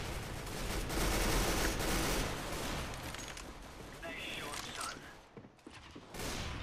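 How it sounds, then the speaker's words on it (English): Gunfire in Counter-Strike: Global Offensive: dense, rapid bursts of shots and heavy fire that run almost continuously, thin out briefly near the end, then pick up again. "Why is that guy shooting me in the back?"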